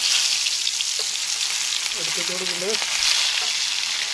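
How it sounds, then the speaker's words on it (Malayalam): Small fish fry in a pan of hot oil, giving a continuous close crackling sizzle. A voice speaks briefly over it. "ആദ്യത്തെ ട്രിപ്പ് വറുത്തെടുത്തു."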